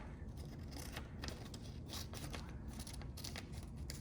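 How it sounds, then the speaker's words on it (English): Scissors snip through paper, cutting out colored paper present shapes for a Grinch craft, with a quick run of close, crisp cuts over a steady background hiss. "And I'm just going to cut each one."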